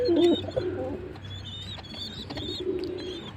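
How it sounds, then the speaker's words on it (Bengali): A pair of pigeons coos close by, with low, throaty, rounded calls in short bursts mixed with faint chirps against quiet background noise. "কবুতরটা মানে গ্যান্ডা কবুতর বলা যায় কিনা"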